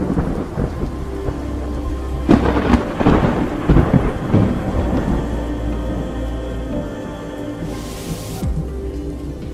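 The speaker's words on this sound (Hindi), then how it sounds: "लॉन में यकदम पड़ने वाली बारिश की तेज बूछाड़ खिड़कियों के शीशों को गीला करने लगी थी" A heavy evening rain shower lashes against window glass in a dense, constant hiss, with thunder rumbling and cracking through the downpour.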